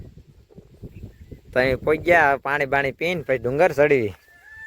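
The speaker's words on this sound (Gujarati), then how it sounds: "મોર બોલે છે ઉપર મસ્ત." A peacock calls near a hillside temple, letting out a run of loud, close, wailing cries in quick succession. People talk before and during the calls.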